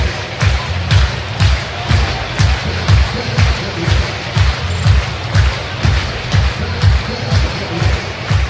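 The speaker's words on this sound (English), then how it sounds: "Everybody's clapping their hands here" A baseball stadium crowd claps in a steady, rhythmic unison beat, a loud and continuous wash of hands with a general crowd murmur underneath.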